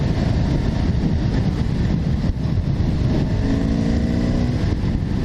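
Honda V65 Magna motorcycle engine on a test ride: a loud, steady drone under heavy wind rush, with a rising tonal whine partway through as the bike pulls.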